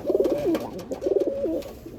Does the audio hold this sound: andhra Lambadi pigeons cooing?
yes